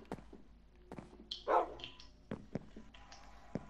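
Tamed wolves in the Minecraft video game give a few short barks and a yip at irregular intervals, clear and close in the game sound, with no speech heard.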